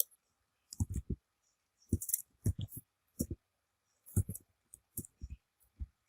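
A computer mouse clicks repeatedly while settings are chosen in a school administration software setup, giving a scattered run of short, close, fairly quiet clicks in irregular clusters.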